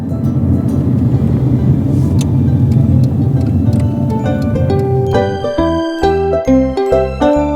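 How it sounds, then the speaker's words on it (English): A toy convertible car gives off a continuous rumbling motor hum that shifts into a bright, jingly electronic melody near the end, loud and close with no talking. "Convertible car."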